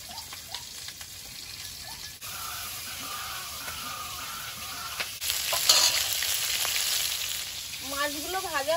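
Murrel fish frying in oil, a continuous crackling sizzle with occasional stirring clatter, steady and moderately loud, with a brief wavering tone near the end.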